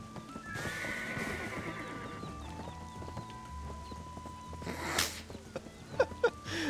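A horse in the Black Desert game whinnies, with hoof clip-clops and game sound effects, a few sharp thuds near the end, and faint clucking fowl in the background.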